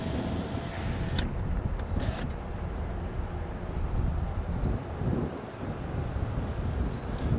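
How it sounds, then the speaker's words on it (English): Cold wind blowing steadily at a CSX rail yard, a loud continuous rushing roar buffeting the microphone with a few brief gusts. "Man, is that wind cold."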